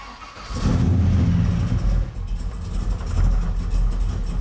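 A 1971 Chevy Caprice with an 840-horsepower engine revs with a loud, deep rumble. The throttle rises and falls over a few seconds, close up, with no talking.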